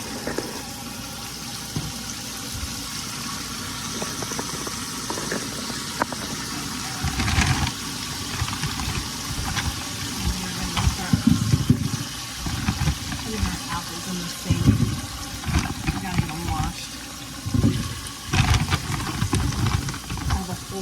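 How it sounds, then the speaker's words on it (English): Running water pours steadily into a basin for a long stretch, with clattering and rustling handling noises building up over it. "get our kitchen sink filled up with some water"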